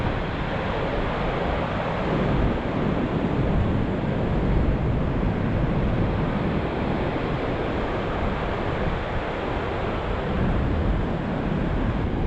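Steady, dense rushing water roars without pause, a broad constant wash of noise like a nearby waterfall, with no voices.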